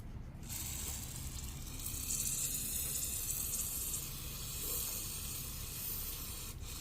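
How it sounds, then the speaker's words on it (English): Steady hiss of aerosol cleaner sprayed into the ports of a clogged carburetor from a 2-cycle 25cc weed eater engine, close and continuous for several seconds after a brief pause. "You wanna spray those out."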